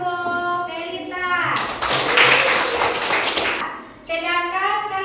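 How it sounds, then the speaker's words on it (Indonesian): A school class claps for a pupil, a short burst of many hands in the middle of the clip, with a teacher's voice speaking before and after it. "Tepuk tangan untuk Elita"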